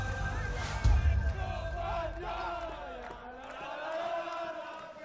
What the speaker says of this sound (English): A huge round of applause and perhaps more singing